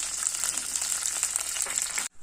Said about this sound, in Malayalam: എണ്ണ ചൂടായി കഴിഞ്ഞു. ഇനി നമുക്ക് കടുക് പൊട്ടിക്കാം.